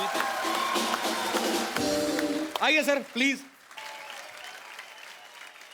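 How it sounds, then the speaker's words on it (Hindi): An audience at a comedy show claps loudly to welcome the composer duo Ajay-Atul, the applause running under a man's speech before tapering off into talk. "बहुत बढ़िया, बहुत जोरदार हो जाए तालियां एक बार यार"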